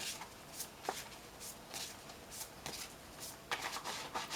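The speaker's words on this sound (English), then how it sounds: "Love these cards. They're fun to shuffle." Tarot cards being shuffled by hand, a series of quiet crisp riffles and soft taps in irregular bursts, close and faint.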